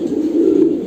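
A pigeon in a pigeon room gives a single low, soft coo, close and clear, lasting under a second.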